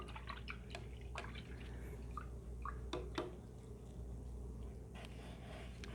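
A paintbrush swished and tapped in a water jar after acrylic painting, faint scattered drips and small splashes at close range over a quiet background hum.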